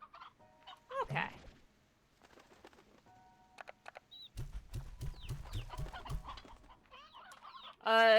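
Chickens in the video game Slime Rancher 2 give scattered clucks amid chimes and other game effects, with a run of rhythmic low thumps midway, quiet overall and without talk.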